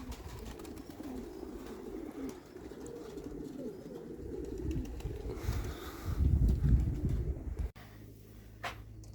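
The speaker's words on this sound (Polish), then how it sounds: "Tu taka chmara gołębi" Low, soft cooing from a group of pigeons, steady and murmuring throughout, with a louder rustling burst near the end.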